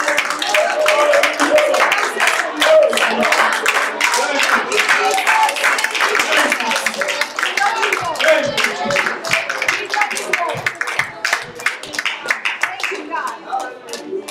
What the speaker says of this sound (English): Give the Lord a clap and a praise and thank him earnestly.